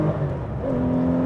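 Porsche 993 R with a Super Cup engine and light flywheel blips its revs during a heel-toe downshift on a B road, a short, quick engine rise and settle heard close inside the car.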